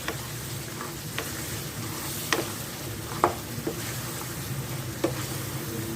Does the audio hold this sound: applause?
no